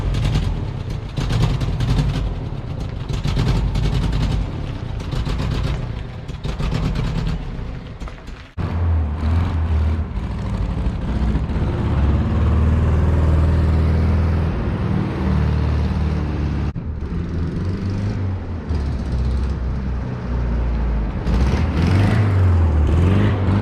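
A 1970 Volkswagen Bug on a test drive, its air-cooled engine droning steadily with shifts in pitch and a brief drop partway through, loud and close over road and wind rumble, no talk.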